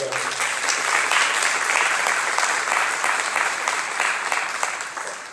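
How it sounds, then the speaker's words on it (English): A room full of people at a food bank forum claps steadily, a dense wash of applause that swells and holds before tapering slightly. "Give her a round of applause."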